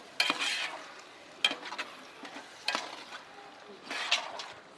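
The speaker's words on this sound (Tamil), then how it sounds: "இப்போ இந்த கொத்தமல்லி புதினா இதோடைய வந்து பச்சை வாசனை போகிற வரைக்கும் ஒரு 2 to 3 மினிட்ஸ் நல்லா வதக்கி விட்டுடலாம்" Coriander and mint sautéed in a pan for a Mattu Pongal non-veg dish, with scraping stirs at a steady rhythm of about four strokes over a soft sizzle, close and moderately loud, without talk.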